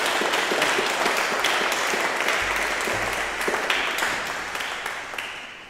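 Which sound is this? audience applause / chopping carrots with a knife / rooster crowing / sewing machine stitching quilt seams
audience applause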